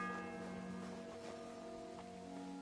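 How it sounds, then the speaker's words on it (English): A church bell tolls in the medieval world of Kingdom Come: Deliverance, a sustained ringing tone with rich overtones, distant and fairly quiet, with a second faint strike near the end. "The fourth bell."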